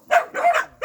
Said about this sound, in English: they rescued a lot of dogs, so there's pooches all over the place